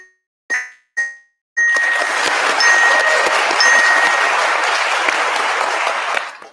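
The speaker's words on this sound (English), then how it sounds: "A round of applause." A few quick chimes ring out, then an audience at a book festival quiz breaks into loud, sustained applause for the fastest qualifiers, with bright bell-like tones sounding over the clapping.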